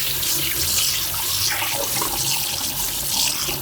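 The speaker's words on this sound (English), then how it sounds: "Yellow fingers, let me wash those quickly." A kitchen faucet runs in a steady, close rush of water as hands are rinsed clean, splashing continuously into the sink without pause or voices.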